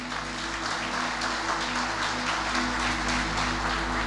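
Congregation clapping during a church service, a steady wash of many hands applauding over a low, constant hum, moderately loud throughout with no speech on top.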